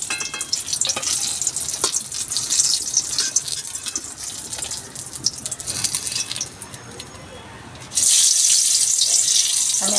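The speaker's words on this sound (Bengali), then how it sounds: "এইভাবে আমি সব বেগুনগুলো ভেজে তুলে নিচ্ছি" Eggplant slices fry in a pan with onions, a steady loud sizzle and hiss running throughout, broken by brief scrapes and stirring clatter, then swelling suddenly louder near the end.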